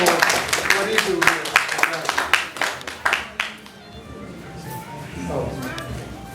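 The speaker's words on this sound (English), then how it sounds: "Let's give our brother DC a round of applause." A conference audience on a Ghana tour applauds, many hands clapping loudly for about three seconds before the claps thin out and fade into room noise and murmuring voices.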